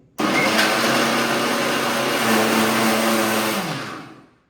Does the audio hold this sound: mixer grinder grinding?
yes